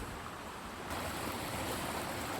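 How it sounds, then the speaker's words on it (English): A stream running near Causey Arch in County Durham gives a continuous close rush of water, steady and fairly loud, thickening slightly after the first second. "there's nothing more soothing than the balm of running water"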